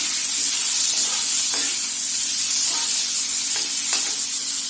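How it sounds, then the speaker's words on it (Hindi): Steady, loud sizzling of cumin and fennel seeds in hot oil fills the whole stretch, with a few faint stirring scrapes and no talking. "तेल गरम हो चुका है, इसमें हम जीरा डाल देंगे, सौंफ डाल देंगे"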